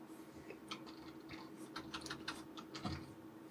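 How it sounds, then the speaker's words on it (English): Quiet, irregular clicks of the bracket keys on a computer keyboard pressed to resize a Photoshop brush, a scattered series of light taps over a low background hum. "So as I adjust my brush on the fly, you'll hear my bracket keys."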